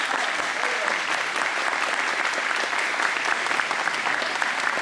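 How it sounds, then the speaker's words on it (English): An audience at an after-prom hypnotist show applauds in a dense, steady roar of clapping that carries on throughout, loud and close. "Give them even more applause."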